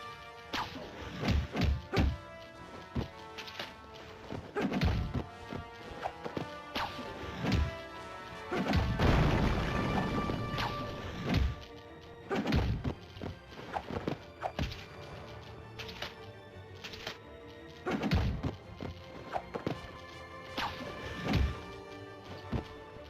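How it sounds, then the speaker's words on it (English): Video game melee combat: quick punches and heavy hits land as repeated thuds and smacks in irregular bursts, loud and close over a steady game background, with occasional louder crashing impacts. "Soften them up with some quick attacks, then nail them with a strong hit."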